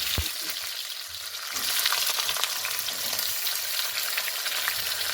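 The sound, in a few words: onions frying in a pan for chicken curry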